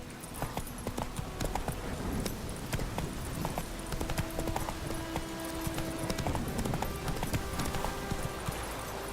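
Roach the horse galloping in The Witcher 3, a steady, dense run of clip-clop hoofbeats that stays loud and continuous throughout, with no talking over it.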